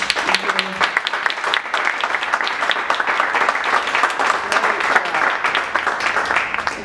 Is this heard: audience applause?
yes